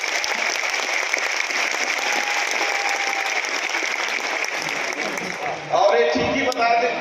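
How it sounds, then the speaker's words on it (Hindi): An audience at a health mission workers' convention in Chhattisgarh applauds MLA Purandar Mishra, loud sustained clapping that fills the hall before a voice begins speaking over it near the end. "उनके लिए भी जोरदार ताली बजाएं।"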